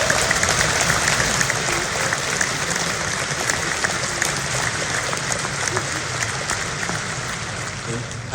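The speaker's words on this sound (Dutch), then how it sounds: "Geef haar een daverend applaus." A concert audience at a film-music evening in the Ziggo Dome gives thunderous applause, a dense, steady roar of clapping that fills the whole stretch without letup.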